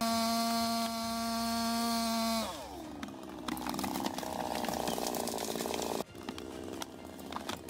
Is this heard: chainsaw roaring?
yes